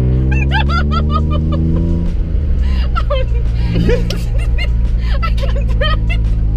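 A loud car engine with a modified exhaust drones with a deep exhaust rumble that shifts pitch partway through, while voices chatter and laugh over it.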